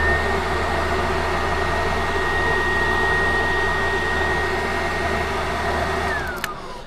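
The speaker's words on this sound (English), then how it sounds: "by shortening red and green wires, you're supposed to have just a blower fan" The heater blower fan of a VW Golf running, a steady loud whirring drone with a constant whine, then winding down in pitch at the end.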